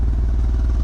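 A Mazda RX-7 FD rotary engine with low compression idles roughly at the muffler, a loud, close, rapid pulsing putter with an uneven chugging beat and a dense low rumble.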